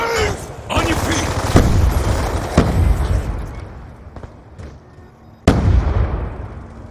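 Grenade blast in the first-person shooter Call of Duty Black Ops 2, several heavy booms over a continuous roar of battle, with a sharp loud burst near the end and game voices shouting over it.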